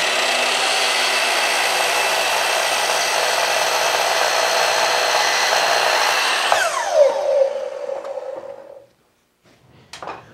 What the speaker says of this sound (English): I can come over to my miter saw, and I've just got my 5-degree angle set up